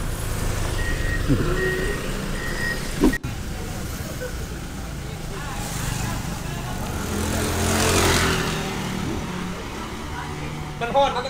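A forklift at a busy railway station sounds repeated reversing beeps in an even rhythm, mid-distance, over steady crowd and vehicle rumble with voices in the background.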